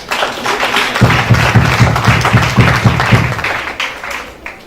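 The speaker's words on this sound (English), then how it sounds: "we deserve a round of applause" Audience at an accounting profession courtesy visit by the ICAN President applauding, a dense, steady burst of many hands clapping that swells, holds for several seconds and then thins out, with no talk over it.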